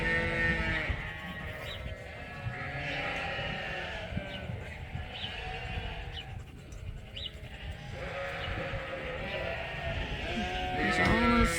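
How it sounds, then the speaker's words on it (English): Sheep ewes in a barn at a scratch post in the evening, bleating repeatedly at varied pitches, several animals near and farther off over a steady rustling background. "The ewes are in from the pasture, so they've come out to the scratch post, and a few of them are having an itch before bed."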